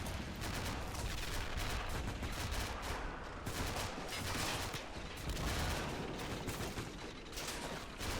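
Dense, continuous gunfire and howitzer blasts rumble through a WW2 video game siege of a Japanese citadel, a steady barrage of overlapping shots and booms with no pauses.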